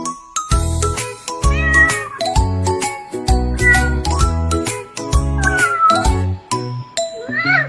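Cartoonish cat meows repeat through a bright children's song about a kitty, sitting loud and clear over bouncy music with jingling, tinkling accents.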